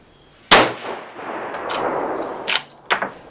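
A single loud 7mm RSAUM rifle shot, a 180 Hybrid bullet over H1000 powder, cracks sharply nearby and rolls into a long echoing tail, followed by a couple of fainter metallic clanks.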